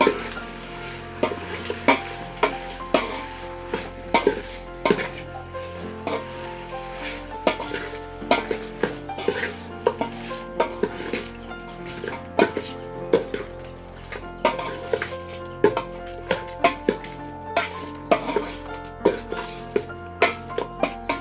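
A spoon scrapes and clanks rhythmically against a pot while thick chicken curry sizzles, repeated stirring strokes close up, with no voices.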